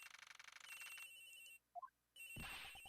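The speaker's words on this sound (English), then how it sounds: "The ringing's coming from somewhere in here, sir." A phone rings in repeated electronic bursts in the video game Ace Attorney Investigations: Miles Edgeworth, then cuts off; after a short quiet gap with a few soft tones, the ringing returns louder.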